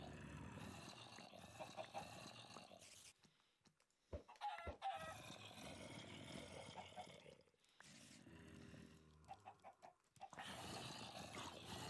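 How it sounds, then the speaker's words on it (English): Chickens clucking in Minecraft, with short clucks and fowl calls mixed into a dense, loud game soundscape that has roars and other noise. "Go on, chickens, be free."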